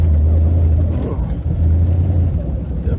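A vehicle engine idles steadily with the gas held even, a low constant rumble and whir heard up close from inside, with a voice faintly audible under it.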